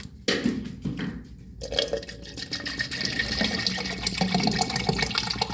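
Water pours steadily into a container, 300 ml measured out for a nutrition shake, a continuous close splashing stream that fills in after a few faint knocks and rises slightly in pitch as the vessel fills.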